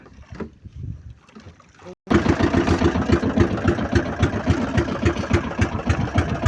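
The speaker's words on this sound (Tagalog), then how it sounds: "largada na guys ayan andar na yung makina" Quiet background noises, then a sudden loud boat engine starts and keeps running with a fast, steady chugging throb.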